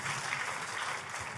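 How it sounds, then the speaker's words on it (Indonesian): Steady applause from a church congregation, many hands clapping densely and evenly for over a second at moderate loudness, with no talking. "tepuk tangannya yang paling meriah buat Tuhan"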